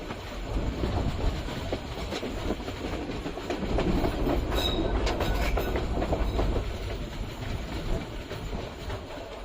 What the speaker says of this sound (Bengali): আমাদের ট্রেনটি এখন প্রবেশ করছে ভৈরব বাজার রেলওয়ে স্টেশনে।